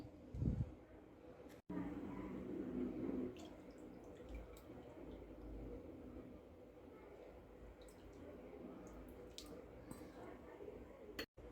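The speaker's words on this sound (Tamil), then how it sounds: "இப்போ நம்ம இது கூட புளிக்கரசலையும் ஊற்றிக்கிருவோம்" Tamarind water pours and splashes steadily into a pot for several seconds, a soft continuous wet trickle with a brief louder gush near the start.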